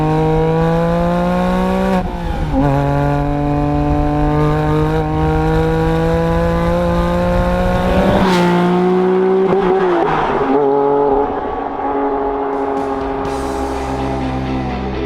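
Porsche 911 GT3 RS flat-six engine with an aftermarket Sharkworks exhaust, revving loudly and continuously with rising and falling pitch through several gear changes, a sharp blip near the middle, close and alone with no talk.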